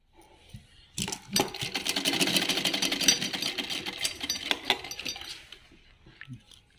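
Sewing machine stitching fabric close by, a dense rapid clattering run of stitches lasting several seconds with sharp clicks, starting and stopping abruptly before fading to quiet handling.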